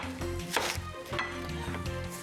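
A knife cuts through a peeled onion into half-inch thick rings on a board, giving a few crisp chopping knocks at an uneven pace, close and clear with no talking.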